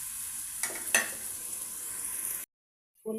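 Onion pieces frying in oil while being stirred, giving a steady close hiss with a couple of brief scraping accents, before a sudden cut to silence near the end.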